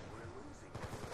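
Video game gunfire crackles faintly in a quick cluster of rapid shots, low in the mix against a noisy background.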